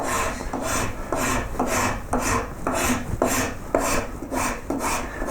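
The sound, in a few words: fine rasp filing a wooden koi carp carving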